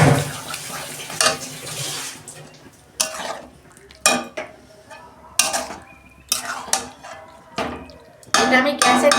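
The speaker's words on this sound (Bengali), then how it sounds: "বাটি ধোয়া আমি জল দিচ্ছি।" Water splashing from a rinsed bowl into a hot pot of chicken cooking for biryani, with loud bursts of sizzling and spluttering, clinks of utensils and stirring between the bursts, all close.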